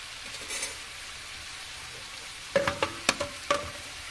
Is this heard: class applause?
no